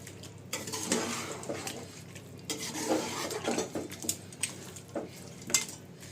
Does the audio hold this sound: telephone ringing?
no